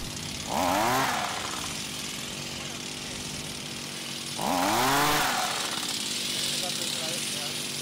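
Hand-held hook shaker for olive harvesting, driven by a small engine and rattling tree branches in a small olive grove: a steady buzzing drone with two louder revving surges, one early and one midway.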